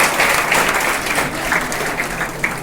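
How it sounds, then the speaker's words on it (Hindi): Audience at an entrepreneurship club meeting applauding steadily, a dense even patter of many hands clapping close by for a few seconds, without talk. "अपना चलो ताली बजा दो इन पांचों के लिए"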